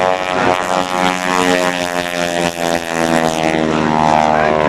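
A propeller airplane at a 2004 Navy airshow, powered by a 450 hp Pratt & Whitney R-985 Junior Wasp radial engine, drones loud and close with a rich harmonic growl, pitch shifting as it passes, with no talk.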